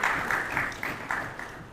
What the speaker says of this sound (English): A big round of applause to TPA.